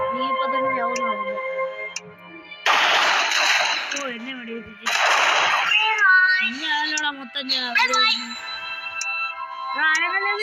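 Two harsh bursts of gunfire, each lasting about a second, erupt during a shooting match in the Ink game, mixed with game tones and excited voices talking throughout.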